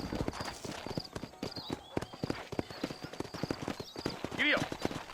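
Horse hooves clip-clop in a steady trotting rhythm in Red Dead Redemption, under continuous character dialogue, with a short neigh near the end.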